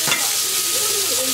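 Stir-frying in a wok with chili peppers and garlic for dry-pot pork intestines: a continuous close sizzle with scraping spatula strokes, a sharp stir near the start and busy frying texture throughout.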